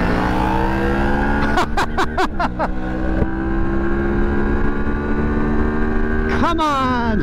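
Adventure motorcycles, a KTM 890 and a Moto Morini X-Cape, ride along with a steady engine drone, rising through several quick gear-change revs, then settling before another surge near the end, with a rider talking over it.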